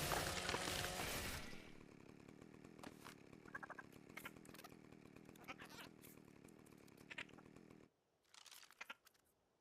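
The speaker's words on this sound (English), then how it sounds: "we'll take the chainsaw out and" A chainsaw harvests a body in the video game Ark: Survival Ascended on the Ragnarok map, starting with a loud roaring burst and then settling into quieter buzzing with short revving spikes.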